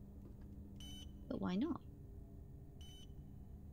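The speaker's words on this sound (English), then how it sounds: "Oh, what is beeping, actually? Something is beeping." Beeping inside the video game Poppy Playtime Chapter 2 comes as two short electronic beep bursts a couple of seconds apart, faint over a low hum, with someone speaking briefly between them.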